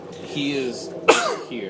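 A single sharp sneeze bursts out mid-conversation at a tabletop role-playing game session, brief and close, with people talking around it.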